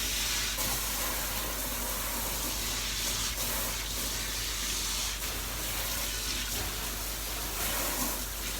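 A water sprayer rinses shampoo from a show poodle's neck with a steady, dense hiss that runs the whole time without a break. It is close and fairly loud, with small shifts in the spray, and no one speaks.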